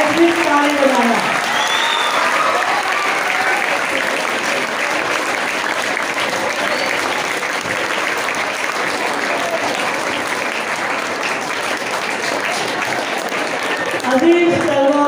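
Loud, sustained applause from a crowded audience at a school prize distribution ceremony, steady dense clapping filling about fifteen seconds, with a brief swell near the end.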